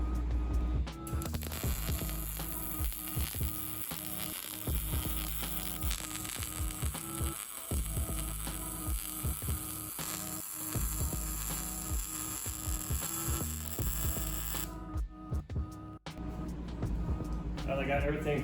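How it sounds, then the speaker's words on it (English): Seam welding along rusty truck frame rails gives a loud, close, continuous crackling buzz with steady sizzle for about fifteen seconds before it cuts off, with brief quieter handling noise afterward. "we're going to seam weld those frame rails all the way in"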